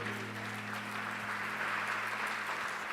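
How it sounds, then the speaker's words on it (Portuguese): A church congregation at a Portuguese-language service claps together, a dense, continuous wash of applause over a steady low background hum. "Dê uma salva de palmas ao Senhor."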